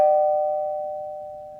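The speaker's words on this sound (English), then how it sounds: "he pressed the doorbell." A doorbell chimes once, a clean sustained electronic tone that rings out and slowly fades over almost two seconds, alone with no voices.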